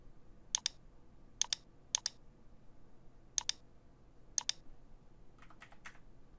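Card number being typed on a computer keyboard, five short clustered bursts of crisp key clicks spaced about a second apart, then a softer run of taps at the end, close and quiet with no talk.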